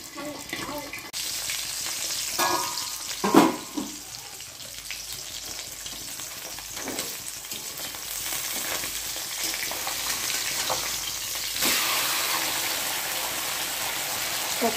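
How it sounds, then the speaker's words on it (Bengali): Pabda catfish sizzles steadily in hot oil beneath a pan lid, a continuous close frying crackle with a couple of brief clatters and occasional faint voice in the background. "মাছগুলো প্রচুর তেল ছিটকাচ্ছে, ওই জন্য আমি ঢাকনা দিয়ে ভাজবো।"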